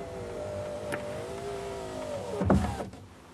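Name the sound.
electric power window of 1990 Vauxhall Senator moving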